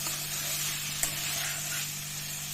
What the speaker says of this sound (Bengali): এবার আমি মাছগুলো দিয়ে দেবো মাছগুলো দিয়ে ভালো করে মশলার সাথে নাড়াচাড়া করে নেব